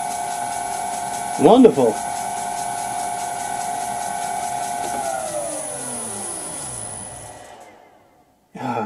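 A vintage lathe motor driven by a new VFD hums steadily with a high whine, then winds down to silence as it switches off; a short exclamation breaks in early on, and speech returns at the very end.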